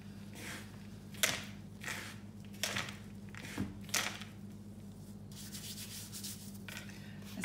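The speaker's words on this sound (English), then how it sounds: "Let's give that a mix around as well." Light suet and caster sugar stirred together in a bowl, soft irregular scraping and rubbing strokes with a low steady hum beneath.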